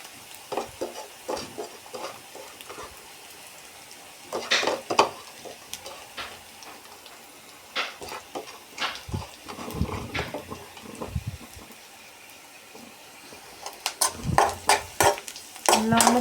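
Coconut being mixed into a dish in a pan, with a spoon scraping and clinking against metal in scattered bursts over a faint sizzle, while a person talks intermittently.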